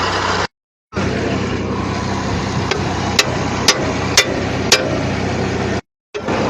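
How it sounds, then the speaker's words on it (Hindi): An automatic bed planter sowing mung in a field, forming beds while drilling seed, gives a steady loud mechanical drone with a few sharp metallic clanks, cut by two short gaps. "ये ऑटोमेटिक बेड प्लांटर है"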